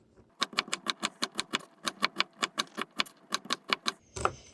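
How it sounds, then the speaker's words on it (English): Knife chopping garden-fresh long beans into small pieces on a board: a brisk, even run of about twenty crisp taps, close and clear, ending with a short scrape. "So just cut them in small pieces."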